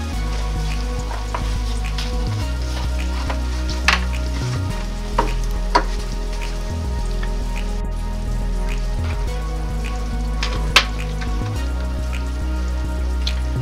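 Tomato ketchup sizzles in a pan with garlic and ginger paste for shrimp biryani, making a steady, close frying hiss with occasional soft stirring clicks.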